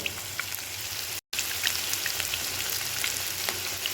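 Marinated chicken for chilli chicken fries in hot oil, giving a steady, close sizzle dotted with small pops and crackles, cut by one very brief dropout near the start.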